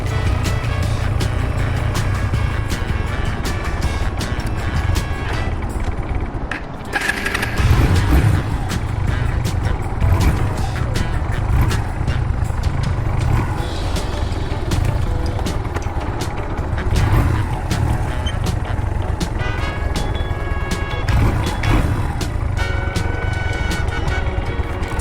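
A motorcycle engine idles and rumbles low and steady on a riding range, the throttle rolled on slightly as the clutch eases into the friction zone, with a brief dip near the start.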